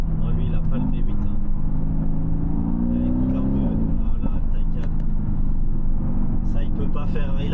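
Mercedes-AMG GT V8 engine rumbling steadily and loud from inside the car, with a deep continuous drone that swells briefly in pitch midway as the throttle opens, then settles back.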